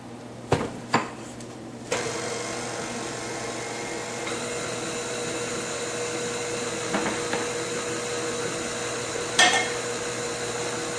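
An electric blender runs steadily on a cream cheese ice cream mixture, a continuous close motor whir lasting the whole time, with a few clunks near the start and a brief louder rattle near the end.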